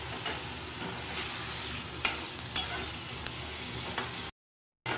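Jackfruit and prawn curry is stirred in a hot pan, a steady close sizzle with a few sharp scraping knocks of the spatula, then a brief cut to silence before the frying resumes.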